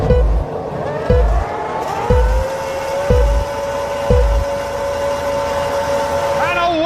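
Formula 1 race cars at the 2012 Spanish Grand Prix start in Barcelona, a high engine whine with regular gearshift thumps about once per second under continuous commentary.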